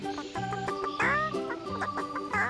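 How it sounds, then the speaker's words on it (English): A toy farm's hen clucks in a series of short electronic clucks and squawks, close and fairly loud, in a quick broken rhythm with no voices. "Here's the hen."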